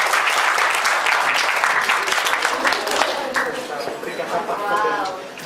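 Applause from the audience at a school awards ceremony in Surabaya, dense and loud clapping that carries for several seconds and fades toward the end, with a voice speaking over it.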